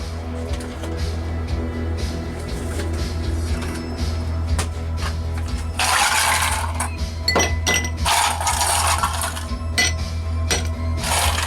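Ice cubes clinking and rattling into a glass while a Bloody Caesar is mixed, bright clatters in two bursts over a steady low hum, fairly close.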